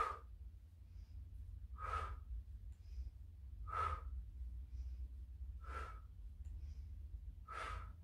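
Slow, steady breaths during a Pilates exercise, five even inhale-exhale bursts about two seconds apart, close and fairly soft over a low background hum.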